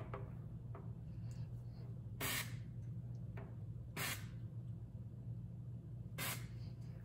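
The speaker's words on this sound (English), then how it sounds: "we are going to spray both top and bottom of the cake pop molds" Three short hissing bursts of aerosol cooking spray onto cake pop molds, spaced a couple of seconds apart, over a low steady background hum.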